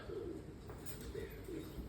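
A green-eyed pigeon gives soft, faint coos in two or three short bursts, heard against a quiet background with no talk.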